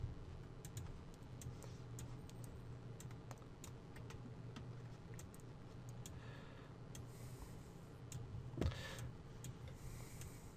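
Light, quiet clicks of typing on a computer keyboard, scattered irregularly over a steady low room hum, with no talking.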